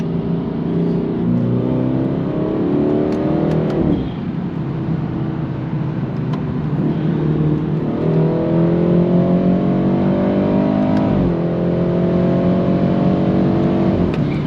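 A BMW 330i engine pulls hard as the car accelerates on the road, revs rising in steady sweeps with two brief drops at shifts, loud and close throughout, with no talking.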